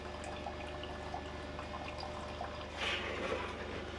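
A Keurig Supreme MultiStream coffee maker brews a K-cup, a quiet steady trickle and drip of liquid over a low hum, with a brief louder gush of pouring near the end.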